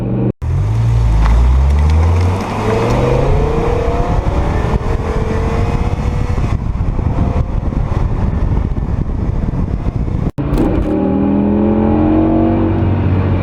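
A BMW E60 M5 with its V10 engine accelerates hard, the automatic gearbox kicking down a couple of gears so the revs leap and climb in rising sweeps, loud and close from inside the car, with a brief break before a second surge.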